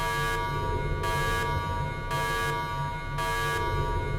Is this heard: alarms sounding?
yes